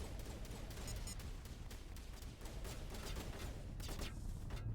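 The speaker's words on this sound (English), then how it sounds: "Enemies are firing at me?" Enemy gunfire in Mass Effect crackles in quick continuous bursts, fairly faint and steady throughout with a few sharper shots near the end, and no talking.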